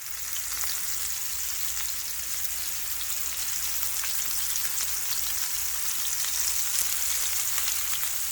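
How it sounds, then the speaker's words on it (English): Basa fish dusted with cayenne pepper sears in a frying pan, giving a steady, even sizzle and crackle like light rain that holds constant throughout, with no voices over it. "While your fish is pan searing"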